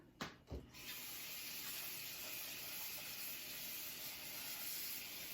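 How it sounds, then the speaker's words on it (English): Water pours steadily from a tap into a pot of potato chunks, a continuous splashing rush after a couple of brief knocks at the start. "Now, put some water in here."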